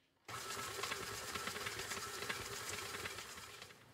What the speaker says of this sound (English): We're going to let it cream the butter and sugar together for just a few minutes to get really light and fluffy.